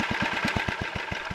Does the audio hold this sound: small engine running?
yes